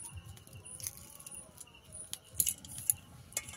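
A boiled egg's shell crackles and clicks faintly in short irregular bursts as it is peeled by hand in a home kitchen.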